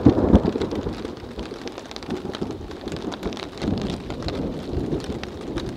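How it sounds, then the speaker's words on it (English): A thunderstorm passes over a tarp shelter at a campsite, with steady heavy rain drumming on the tarp and low thunder rolling through. A loud crack near the start gives way to continuous rumbling and downpour, and no one speaks. "the storm does sound like it's rolling past us"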